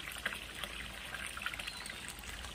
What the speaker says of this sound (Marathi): पन्हाळीचं पाणी दोनात पडतंय